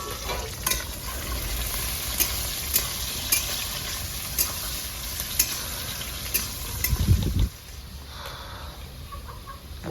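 Chopped onions frying in a pan for haldi chicken: a steady close sizzle with regular clicks and scrapes from stirring, then a louder rush of sizzling near the end before it quiets, with no voices.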